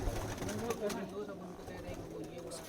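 Domestic pigeons coo softly in a rooftop loft, low throaty calls repeating close by, with a voice speaking over them throughout.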